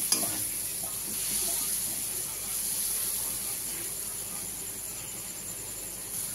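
Eggplant and potato masala with green chillies stir-frying in a pan, a continuous soft sizzle and hiss with faint scraping of the spatula, fairly quiet and steady.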